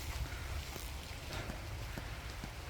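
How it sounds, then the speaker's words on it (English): Rain falls steadily on a surface nearby, a soft even patter with occasional distinct drops. "Oh man, it's raining."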